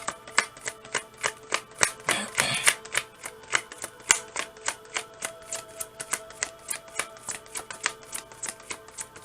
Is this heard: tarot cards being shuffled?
yes